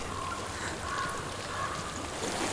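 Steady, even rush of flowing water in a video game (Hellblade: Senua's Sacrifice), a constant soft hiss with no pauses, heard on its own.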